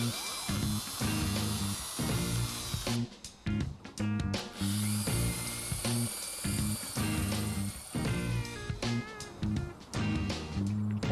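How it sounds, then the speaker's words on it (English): A power drill whines loudly and steadily, grinding through metal with brief pauses and restarts between bursts of boring. "I'll just be drilling through this metal rod."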